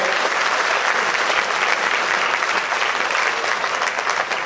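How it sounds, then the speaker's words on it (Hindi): A crowd at a Digamber Jain temple Panchkalyanak ceremony in Guwahati applauds to welcome a guest, a loud, continuous wall of clapping that holds steady throughout with no talk over it. "आप एक बार जोरदार तालियां बजा के उनका स्वागत करें"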